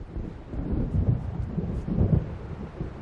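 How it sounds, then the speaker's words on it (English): Deep, rolling thunder of an approaching storm in the video game Alan Wake Remastered, a steady low rumble that swells and churns for the full stretch with a faint hiss of rain and wind above it. "It seems there's a storm coming."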